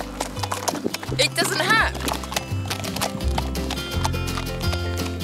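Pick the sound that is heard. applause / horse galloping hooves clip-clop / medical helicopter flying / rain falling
horse galloping hooves clip-clop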